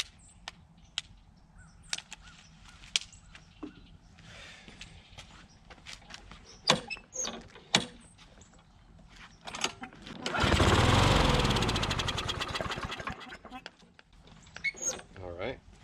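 An old Briggs & Stratton classic push mower, a pieced-together machine fed a little two-stroke mix, sputters through a few attempts, then catches and roars briefly before dying back, with scattered clatter and footsteps around it.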